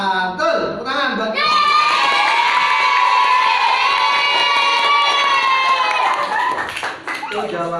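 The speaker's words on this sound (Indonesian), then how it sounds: "tepuk tangan buat" A classroom of children cheers and claps together, a loud sustained crowd of young voices shouting over scattered hand claps, with some talking at the start and end.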